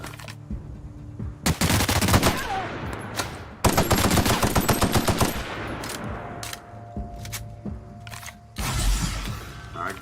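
Gunfire in the video game The Outer Worlds comes in loud, rapid automatic bursts and single shots, with gaps of quieter game ambience and one heavy impact near the end, and no talk over it.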